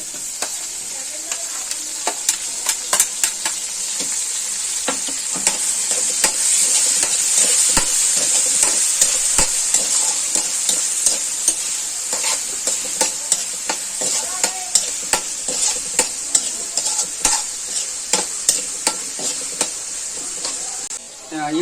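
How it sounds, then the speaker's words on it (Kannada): Chopped tomato frying with onions for a Kerala-style masala gives a steady close sizzle punctuated by frequent sharp spatula scrapes and taps against the pan, with no voices over it. "ಈರುಳ್ಳಿ ಹಾಕಿ ಆಯ್ತು, ಇವಾಗ ಟೊಮೆಟೊ ಹಾಕ್ತಾ ಇದೀನಿ."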